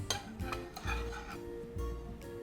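A utensil stirs strips of beef fillet in a pan, giving soft scraping and clinking strokes in an irregular rhythm with a faint sizzle beneath, close and quiet.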